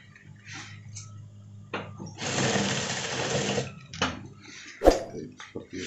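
An electric sewing machine stitches a zipper pocket into a motorcycle jacket, a single sustained run of rapid mechanical whirring lasting over a second, framed by brief clicks and handling noises.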